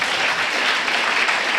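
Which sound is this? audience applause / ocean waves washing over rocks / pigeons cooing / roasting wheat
audience applause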